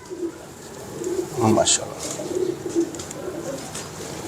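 Pigeons coo softly in a Lahore loft, low burbling calls repeating through the clip beneath a man's brief spoken exclamation and nearby voices.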